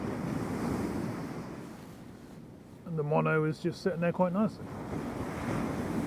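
Sea waves on a shore at Walcott in North Norfolk, a steady wash of surf and wind noise running throughout, with someone talking briefly in the middle over the waves.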